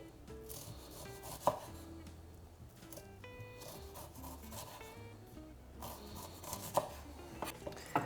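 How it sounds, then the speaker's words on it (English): Knife cutting charred sweet corn kernels off the cob, a few sharp chopping strikes and scraping rubs close by against a busy kitchen background. "And then we're just going to remove all those kernels."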